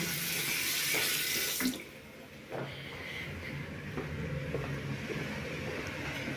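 Hot water runs steadily from a household tap in an apartment, then is switched off partway through, leaving a softer residual trickle and faint background hum; no one speaks.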